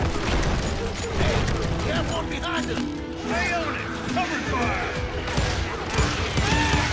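Gunfire erupts in the Western shooter game Call of Juarez: Gunslinger, with dense, loud shots and mechanical clatter continuing throughout amid busy game sound.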